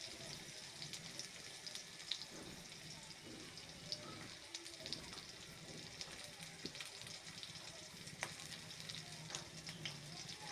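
Potatoes and slit green chillies fry lightly in a pan, giving a steady, soft sizzle throughout with occasional faint scrapes and clicks from stirring.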